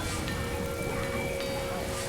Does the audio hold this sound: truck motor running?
no